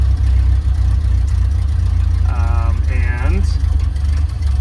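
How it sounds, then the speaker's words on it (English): A 1930 Ford Model A engine idles with a loud, steady low rumble and whir, heard up close as someone talks briefly over it. "I'm going to pull on the choke, and I'm going to start it up."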